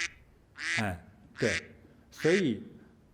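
Ducks quack three times, loud and close, each call a harsh nasal burst separated by short pauses, with no other voices.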